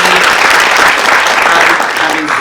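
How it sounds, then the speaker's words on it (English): Audience applause at a full stack web fellowship demo day, loud, continuous clapping filling the whole short stretch. "So a round of applause to all of you guys."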